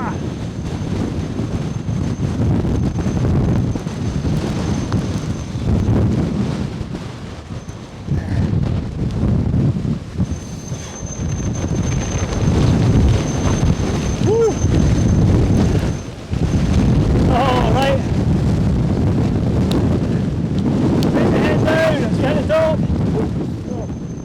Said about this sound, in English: I don't know if you can hear that wind going through the